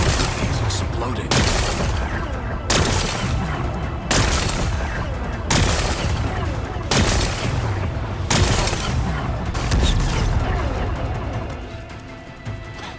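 A string of heavy explosions in Horizon Forbidden West, six or so loud booming blasts arriving roughly every one and a half seconds, each with a crashing rumble that fades before the next, tapering off at the end.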